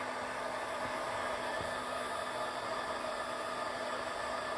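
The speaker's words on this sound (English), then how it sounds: "I'm going to use my hairdryer here real quick." Steady whooshing roar of a hair dryer drying a watercolor painting, blowing continuously, close and constant from start to finish with no speech.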